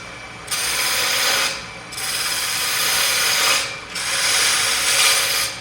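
Wood lathe spindle turning while a small scraping tool cuts a groove, giving three sustained bursts of steady cutting hiss, each breaking off briefly between passes, close and loud with no talking.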